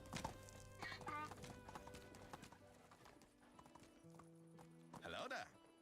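A horse in the video game Medieval Dynasty clip-clops along in a quick, rhythmic trot, with a brief whinny, while someone talks over the hooves.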